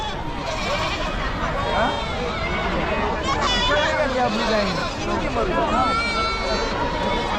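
Goats bleat repeatedly amid a crowded Chakan goat and sheep market in Maharashtra, their calls mixing with dense chatter and someone speaking over the bustle.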